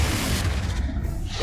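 A Confringo spell goes off in Hogwarts Legacy with a dense, booming blast and a sustained rumbling low end that fills the short moment at close range.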